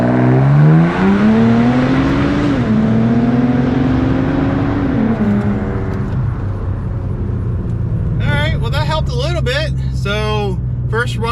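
A Ford Taurus SHO accelerates hard through a 0-60 run, its engine rising in pitch through gear changes with a loud rumble, then settling as a person talks over the fading engine noise.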